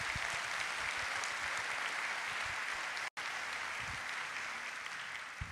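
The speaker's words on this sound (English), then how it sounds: "One more round of applause for Mr. Bob Kastner." Steady, dense audience applause honoring a brass ensemble player at a Christmas concert, filling the room evenly for several seconds with a brief break midway.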